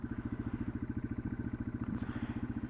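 A motorcycle engine weighing about 278 pounds idles fast with the choke off, a steady, even, rapid thumping pulse held close and alone throughout.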